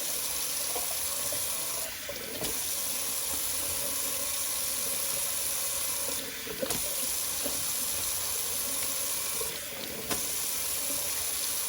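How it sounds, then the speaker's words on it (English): Cold water runs from a bathroom tap into the sink for rinsing during a wet shave, a steady close hiss broken by brief splashy changes as hands pass through the stream, with no talking. "so a little cold water rinse while I'm at it."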